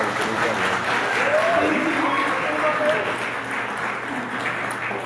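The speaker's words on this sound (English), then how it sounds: "A big round of applause for Dulce Maria." Audience applause at a conference presentation: a steady, dense wash of clapping holding for several seconds, with voices and murmurs mixed in underneath.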